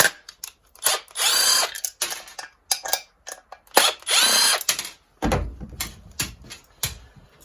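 A power tool whirs in short repeated bursts while unbolting a muffler from an engine cylinder, loud and close, with ratcheting clicks and metallic clanks between the bursts and no talking.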